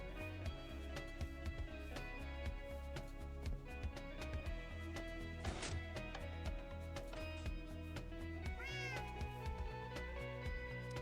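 A cat named Orange meows in the video game Minecraft, repeated meows sounding over steady background music, fairly faint in the mix.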